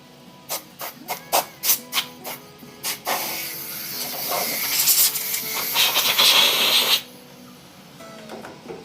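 Compressed air is blown over a resin turning on a lathe. Several sharp air bursts come first, then a long, loud, steady hiss lasts about four seconds before it cuts off, all close to the listener.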